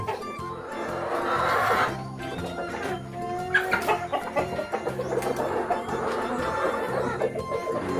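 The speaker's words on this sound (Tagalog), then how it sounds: "Niligaw na yung mga tandang natin mga ka-chicken." Roosters and hens clucking and calling nearby, a busy overlapping chorus of breeder fowl, three roosters courting hens, with occasional louder squawks.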